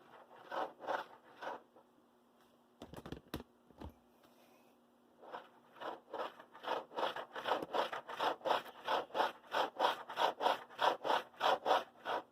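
Grease being worked into a model train truck, a rhythmic run of soft scraping rolls repeating back and forth, close and steady after a brief pause broken by a few sharp clicks.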